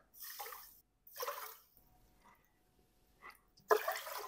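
Water added to sugar in a bowl for sugar syrup, with several short bursts of pouring or splashing separated by pauses, the last burst loudest.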